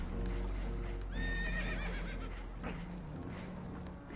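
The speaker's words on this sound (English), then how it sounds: "Horses are spooked" Spooked horses whinny and neigh in a clear burst over steady rumbling and the clip-clop of hooves, aboard a damaged boat in Red Dead Redemption 2.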